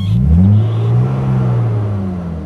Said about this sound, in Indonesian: Bunyi kipasnya di depan tuh kedengeran karena memang dia masih pakai visco, dia tidak pakai extra fan.